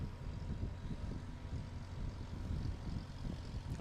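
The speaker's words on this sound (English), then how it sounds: "It's a very graceful takeoff from Ryan Melendez." A Legend Cub light aircraft takes off from Ontario Municipal Airport, its propeller engine a low, rumbling drone heard at moderate distance, fairly quiet and steady throughout.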